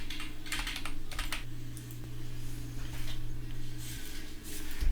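Steady typing on a computer keyboard, a run of close, crisp key clicks with brief pauses, over a low constant hum and with no speech.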